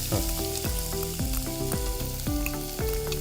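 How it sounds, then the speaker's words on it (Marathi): Onion frying with garlic cloves in hot oil, a steady close sizzle with brief stirring scrapes over it, no voices. "आता हा कांदा घातलेला आहे मी याच्यामध्ये"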